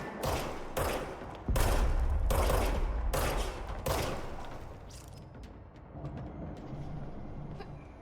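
A gun firing in the video game Control: several loud, closely spaced shots in the first few seconds, then the reverberant tail and quieter ambience linger after the shooting stops.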